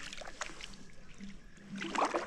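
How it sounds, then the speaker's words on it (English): Kayak paddles dip into the water in soft, faint splashes and gurgles, one near the start and a fuller one near the end. "the sound of my paddles entering the water is always right where you'd expect to hear it"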